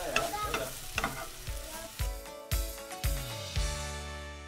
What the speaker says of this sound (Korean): 지글지글 보글보글